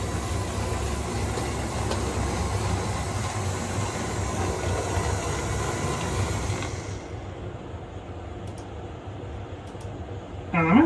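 A model train runs over the track of a home model railway layout with a reverse loop, points and diamond crossings, giving a continuous close rolling rumble and rattle that drops away abruptly partway through.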